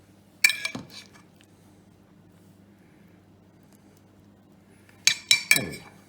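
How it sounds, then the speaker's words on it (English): Two metal spoons clink and scrape against each other while a vegetable mix is pressed into a hollowed eggplant, one sharp burst of clinks and then, after a quiet pause, a quick cluster of three or four more, close by with no talk. "with the help of 2 spoons, you're going to stuff your lovely eggplant with your mix"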